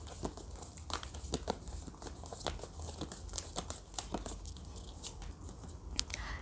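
Tarot cards pulled from a pack and handled at close range make crisp crinkling, sliding and tapping sounds. Small scuffs and flicks come in an irregular stream and are quiet throughout, with no talking.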